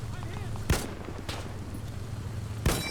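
Gunfire in Arma 3 Spearhead 1944, a World War II setting: three sharp, loud single shots spaced about a second apart, heard over steady low background ambience.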